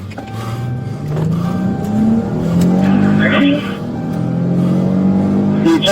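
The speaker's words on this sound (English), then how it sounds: "And then you just start the car, go." A police patrol car starts and pulls away, its engine rising in pitch as it accelerates, loud and close with a brief squeal, while a voice talks over it.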